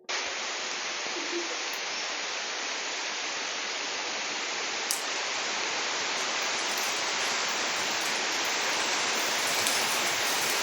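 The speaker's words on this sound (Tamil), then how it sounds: "நல்ல மழை, காலையிலேருந்து வெயிட்டிங்கில் இருந்துச்சு மழை." Heavy rain pours down over a garden, a dense, even hiss of drops that stays loud and unbroken from start to finish, with no voices over it.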